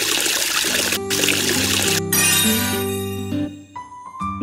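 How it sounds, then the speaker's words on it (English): Water trickling and splashing in an animated face-washing scene, loud and close, in short bursts, with a cheerful tonal melody playing underneath. "Wash the face with water."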